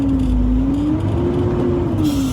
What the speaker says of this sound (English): I'll put it on first gear again, and then I gas the truck forward,